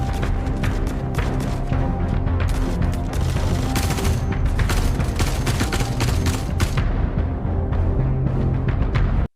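Sustained gunfire in the Star Citizen game, dense rapid bursts of shots layered over a continuous loud rumble and booms throughout, with no talking.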